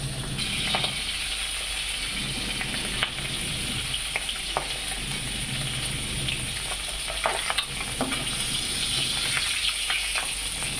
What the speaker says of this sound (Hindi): बहुत मैंने तेल में पकाने से बहुत फूटता है। इसको मैं फ्राई करूंगी।